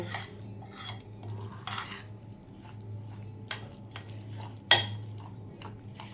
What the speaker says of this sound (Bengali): ভালো করে সুজি আর টক দইটা ভালো করে মেখে নেব